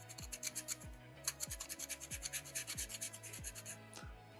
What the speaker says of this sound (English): I do all my finishing sanding with water.